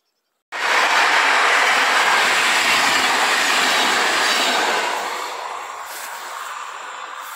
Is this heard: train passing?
yes